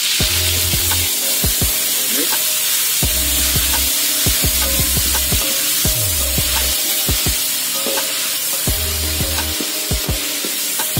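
Green chillies, shallots and garlic stir-fried for jengkol sambal ijo, a constant loud sizzle with a spatula repeatedly knocking and scraping the pan in an uneven rhythm, close and with no talk.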